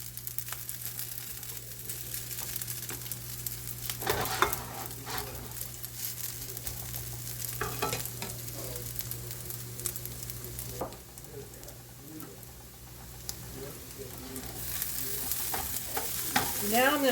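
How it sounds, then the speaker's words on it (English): Chicken fried rice is stirred in a hot pan. A soft, continuous sizzle runs under scattered scraping and tossing sounds, fairly quiet and close, with no one talking. "Now I'm going to give it a nice stir."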